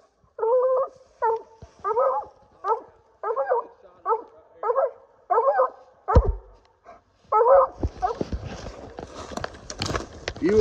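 A hunting dog barks at night in North Carolina bottomland, a steady run of loud, close barks about every half second, then heavy rustling and thrashing noise takes over near the end.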